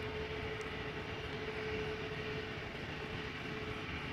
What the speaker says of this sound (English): We're looking head first to an Embraer 175 that is going to precede the A330 that is moving to the runway threshold